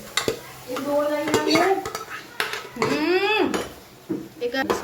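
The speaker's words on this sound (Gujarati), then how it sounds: "ભાજી સરસ આપણે મિક્સ કરી લઈએ." Greens (bhaji) are mixed into masala in a pan, with close, clattering scrapes of a utensil against the metal, squeaky pitched rubbing sounds and a light sizzle underneath.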